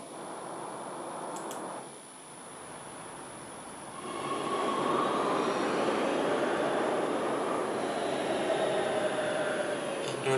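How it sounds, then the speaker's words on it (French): Metro train ride in the video game Big Ambitions: a steady rumbling roar of a subway car in motion, quieter at first, then swelling louder and holding a sustained rolling drone with a faint high whine. "Je vais prendre le métro pour m'amener ici."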